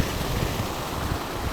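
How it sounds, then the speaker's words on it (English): Water from a small waterfall at a drainage outlet rushes and splashes beside a marshy river, a steady close roar mixed with rumbling wind buffeting the microphone. "There's a bit of a waterfall here, water drainage."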